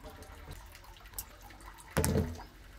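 Rinsing water from washing tomatoes for pickle is poured out into a kitchen sink in a brief, close splash near the end, after quiet background with a faint dribble.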